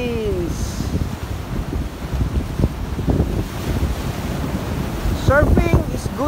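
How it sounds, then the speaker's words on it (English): Ocean waves wash onto a beach at Agoo, La Union, Philippines, a rolling surf roar mixed with wind buffeting the microphone and a voice speaking near the end. "Because the wave, water wave. You see the water wave?"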